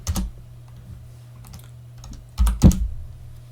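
Computer keyboard keys tapped while a password is entered, a few soft scattered clicks followed by a louder quick burst of keystrokes near the end, close and alone with no talk.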